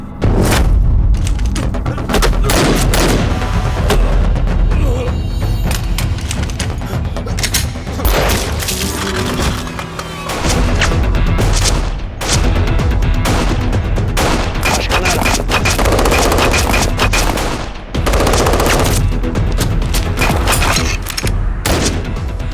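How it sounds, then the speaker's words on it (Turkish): Loud bursts of gunfire erupt in a shootout at a doorway, with rapid volleys and heavy booms running almost continuously, broken by a few brief lulls. "Kapıda çatışma çıktı."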